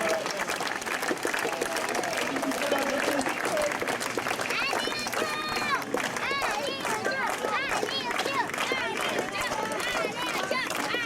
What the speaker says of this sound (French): On peut l'applaudir à Nicolas.